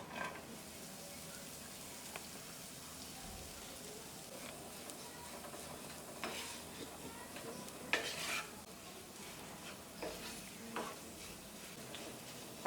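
Khoya (mava) roasting in a ghee-coated kadai for stuffed dates, a faint, close sizzle under irregular stirring scrapes and occasional light clinks of the spoon, with no talk.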